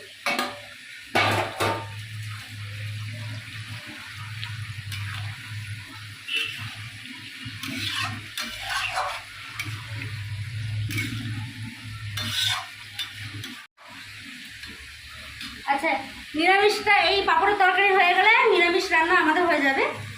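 Potatoes and coriander stirring and frying in a pan, a steady scraping sizzle with clatter, joined near the end by a louder burst of bright, hissing activity.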